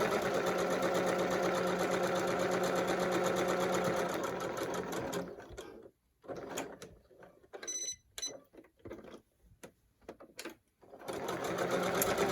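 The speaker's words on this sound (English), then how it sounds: "just begin stitching around the entire mask until you get to the other side" A sewing machine runs in a steady, close buzz while stitching around a fabric face mask, then breaks into short stop-and-start bursts of stitching separated by brief pauses.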